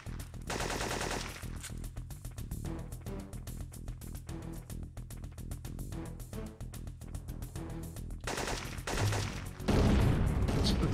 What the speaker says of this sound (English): We're shooting it through the object now.